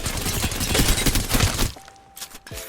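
Rapid hip-fire gunshots ring out in the shooter game Apex Legends, a dense, loud burst of automatic fire lasting over a second before cutting off, followed by faint clicks and game effects.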